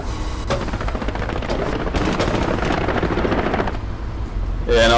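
An aircraft strafing run in the World War II shooter Hell Let Loose: loud, sustained bursts of rapid machine-gun fire with dense, rattling shots over a steady roaring engine drone, ending in a heavier blast.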